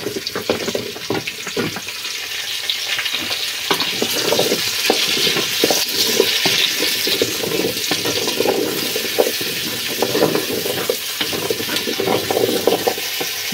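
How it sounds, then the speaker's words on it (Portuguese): Pumpkin (jerimum) sautéing with garlic in a pan on a farm, a steady loud sizzle with stirring and scraping throughout and no voices. "Eu vou colocar aqui o jerimum. Pode deixar muito tempo, não, o alho queima."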